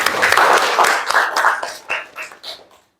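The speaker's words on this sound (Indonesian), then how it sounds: "Tepuk tangan untuk kelompoknya Mbak Arina" Students in a classroom give a group a short round of applause, a dense patter of claps that thins out and fades to silence within about three seconds.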